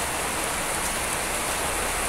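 Calm, steady rain falls in Mato Grosso, a constant soft hiss of drops on surfaces with no pauses or voices.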